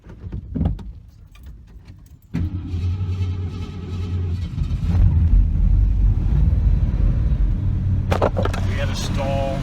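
A 1973 Ford Mustang engine with vapor lock cranks and fires, then runs as a loud, steady, close rumble before faltering, with a few clicks and clunks at the start and voices talking nearby.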